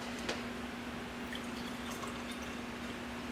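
Room-temperature bottled water pours in a steady, continuous stream into an apple cider vinegar drink, with a low constant hum underneath and no talking.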